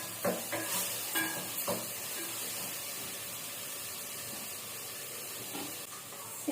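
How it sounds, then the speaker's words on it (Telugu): Onions and green chillies fry in a pan for a crab curry, a soft continuous sizzle under occasional scraping stirs of a spoon, heard close and alone. "ఇదంతా బాగా మగ్గి కొంచెం కలర్ చేంజ్ అయ్యి ఉల్లిపాయ పచ్చివాసన పోయే వరకు వేయించుకోవాలి."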